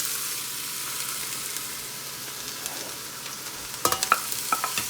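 Chopped vegetables for a very hot chili hit a hot pot and sizzle, a steady soft hiss with faint stirring scrapes, then a few louder clatters and spoon knocks near the end.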